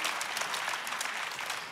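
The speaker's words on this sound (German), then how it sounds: "Applaus, super." A church congregation in Zürich claps warmly during a service, giving an even, moderately loud wash of applause with no single claps standing out.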